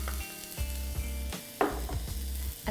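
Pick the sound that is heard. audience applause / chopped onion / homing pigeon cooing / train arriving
chopped onion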